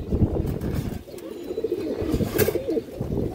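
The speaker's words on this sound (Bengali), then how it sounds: "অনেকদিন পর দর্শক এক পেয়ার ইন্ডিয়ান হাই ফ্লাই কালদম কবুতর সংগ্রহ করছে" Indian High Flyer Kaldom pigeons give low, soft, rolling coos, close up and repeated over a noisy background of shuffling and indoor rumble, with no talking.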